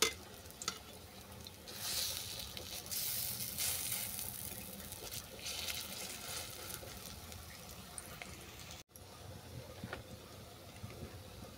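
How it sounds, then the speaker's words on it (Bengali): Piring flower fritters sizzle and crackle steadily in hot oil in a pan, with occasional stirring or flipping scrapes and a soft continuous frying hiss throughout, no talking. "এই তেলের মধ্যে বড়াটাকেও ভেজে নেব।"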